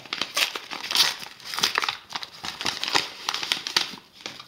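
Plastic foil wrapping around a tub of grease crinkles and crackles in quick bursts as it is handled up close, with no talking.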